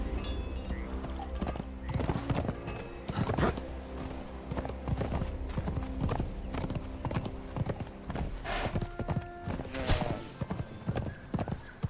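Horse hooves clip-clop in a steady walking rhythm while riding in the game Conan Exiles, close and clear, with occasional whinnies and game background tones.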